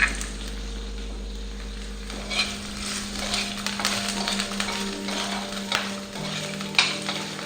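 Ginger and garlic fry in a little oil in a pan, giving a steady close sizzle broken by irregular scraping and tapping from a stirring utensil, with no one talking.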